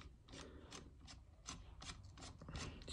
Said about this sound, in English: there is three screws in this, so we're going to remove this one first